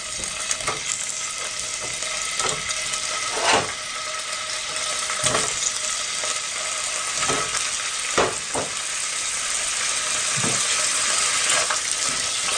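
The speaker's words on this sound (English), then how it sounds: "Fry the paneer." Paneer fries in hot olive oil in a wok, giving a loud continuous sizzle broken by sharp clinks and scrapes of a spatula stirring the pieces, close and steady throughout without any talk.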